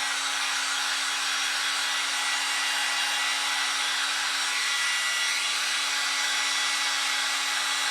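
A blower dries something over a silicone mat, producing a continuous loud, even whooshing roar with a faint steady hum underneath that holds unchanged throughout, with no voices.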